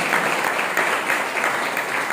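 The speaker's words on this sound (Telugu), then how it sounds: "చప్పట్లు కొట్టి దేవుని స్తోత్రం చెప్తాం" A church congregation claps in steady, dense applause during a prayer service, close and continuous with no gaps.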